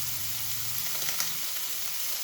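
Potato and eggplant frying in a pan, a soft, steady sizzle that holds evenly throughout, with a few brief crackles in the middle and no talking.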